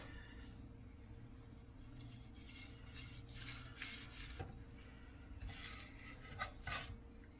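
A knife cuts into pressed braised belly pork reheated on a barbecue to a crispy edge, giving quiet close-up scraping and crunching with a few soft clinks against the board or plate.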